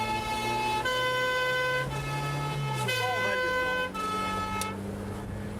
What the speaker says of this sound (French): L'ambulance est derrière